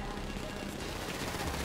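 Rapid gunfire in the Grand Theft Auto Online game during a vehicle chase, a dense continuous crackle of shots filling the whole short moment, loud and harsh.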